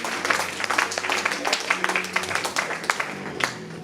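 An audience applauds a couple being honoured at a seventieth-birthday celebration for a pastor, a steady, dense patter of many hands clapping throughout with a faint murmur of voices underneath.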